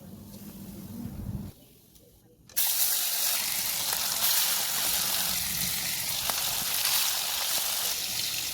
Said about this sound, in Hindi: मैं अभी जो और मछली है उसको भी फ्राई होने देंगे